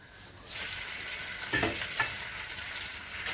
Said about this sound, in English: the potatoes have been cooking maybe 5 minutes, so let's take a look at them